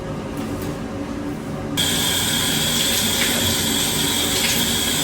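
In a campsite shower room, a low background hum gives way to a shower bursting on and running in a loud, steady hiss of spraying water.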